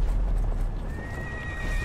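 A horse in a video game neighs and whinnies over clip-clopping hooves, close and fairly loud in a short burst.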